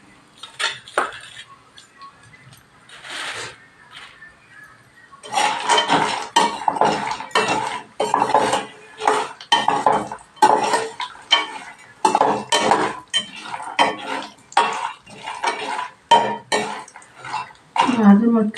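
Almonds roasting in a pan while a metal spoon stirs and scrapes them, giving repeated clinking, rattling strokes in an uneven rhythm, close and fairly loud, after a quieter opening.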